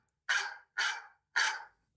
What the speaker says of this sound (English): a dog barks at 5 minutes to alarm me